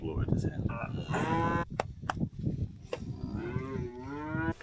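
Heavy cattle moo repeatedly at close range: several long, drawn-out bellows and lowing calls follow one another over a few seconds, mixed with some rustling and knocking sounds.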